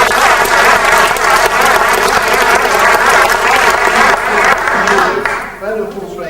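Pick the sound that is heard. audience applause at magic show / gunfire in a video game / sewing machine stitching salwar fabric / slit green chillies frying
audience applause at magic show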